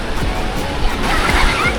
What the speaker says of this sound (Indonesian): Nih ya, gelombangnya tidak terlalu besar,